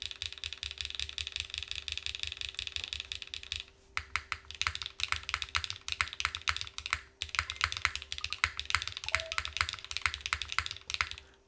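Rapid typing on a Zoom75 keyboard fitted with GMK keycaps, a plastic plate and cork mid foam: dense, steady clacks close up, a brief pause near four seconds, then typing resumes over a faint constant hum.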